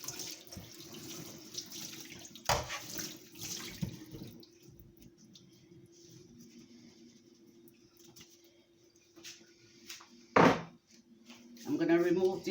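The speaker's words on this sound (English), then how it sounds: "Just gonna give my board a rinse." Tap water runs and splashes while a cutting board, just used for cutting mango, is rinsed at a sink; the flow is soft and steady with a few louder knocks and splashes, and a voice speaks briefly.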